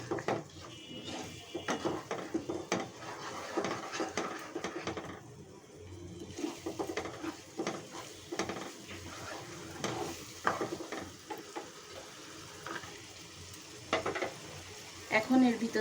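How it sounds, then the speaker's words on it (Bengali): Spice paste for chicken roast sizzles and fries in a pan while a spoon stirs and scrapes repeatedly, a close clattering rhythm over a steady hiss. "এখন মশলাটা ভালো করে কষাতে হবে।"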